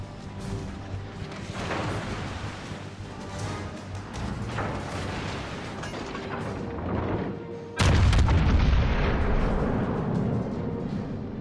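Main guns of the battleship Musashi firing in World of Warships, heavy booming blasts layered over a constant rumble, ending with a sudden, loud crashing salvo that stays dense to the end.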